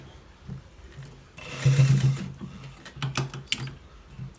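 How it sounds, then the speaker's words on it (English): Sewing machine stitching a collar piece for a shirt, a short close burst of rapid mechanical whirring with a few lighter clicks around it. No voices are heard. "So guys, this is the other part, and we are stitching it"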